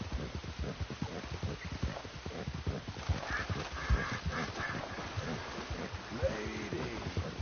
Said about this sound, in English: Ooh, wild horses.